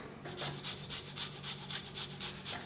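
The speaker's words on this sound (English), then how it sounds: "I'm gonna grate my garlic." Garlic cloves are rubbed against a grater for a parsley mixture, giving about ten quick, rhythmic rasping strokes close up and fairly loud, with no talking.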